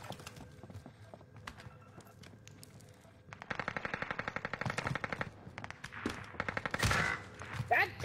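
Gunfire in a Call of Duty game: rapid automatic bursts rattle out in fast rhythmic volleys through the second half, with scattered shots and game noise before, fairly loud and close.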